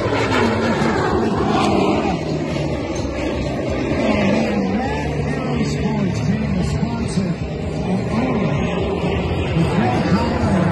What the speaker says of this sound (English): Jeff Bourbon, a former U.S. National Aerobatic Champion, and member of the U.S. aerobatic team going into crossing